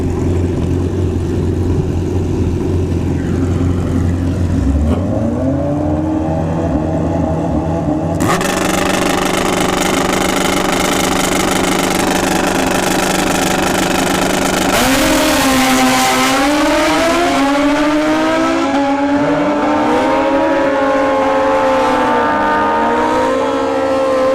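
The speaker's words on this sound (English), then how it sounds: "We have a ZX14 here in the left lane." A Kawasaki ZX14 drag racing motorcycle at a drag strip idles, then roars off the line, its loud engine climbing through rapid upshifts in a sustained, close, high-revving wail.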